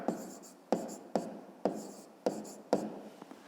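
Numbers are written by hand for a math exercise, a pen scratching on paper in about six brisk, close strokes at a steady rhythm, each starting sharply and trailing off.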